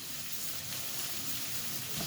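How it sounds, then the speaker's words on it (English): Steady, close sizzling of food frying in a pan while cooking pasta bolognese, a continuous crackling hiss with no talking. "Yep, that's sizzling. You want that sizzled"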